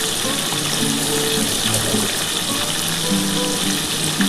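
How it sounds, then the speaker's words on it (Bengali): Pieces of tilapia fish fry in hot oil with a loud, continuous sizzle and crackle. Steady bubbling stays close and constant, with no talk over it. "আর এই 3 পিস ভাজা হয়ে গেলে আমি তুলে নেবো"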